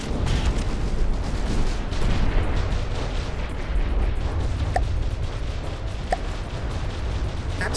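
Heavy booming naval cannon broadsides in the video game From the Depths roll continuously over dense rumbling battle noise, with a few sharper cracks standing out near the end.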